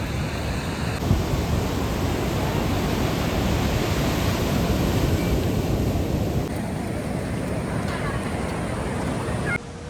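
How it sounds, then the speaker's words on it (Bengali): Rough, roaring sea surf rolls in at Puri beach on the Bay of Bengal, a dense, loud, continuous wash of breaking waves close by that drowns out other sound. "দেখো এক একটা ঢেউ আসছে, দেখো।"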